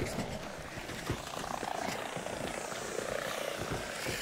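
Drones fly in a video game, giving a steady buzzing, whirring drone with scattered clicks and crackles throughout, fairly loud and close.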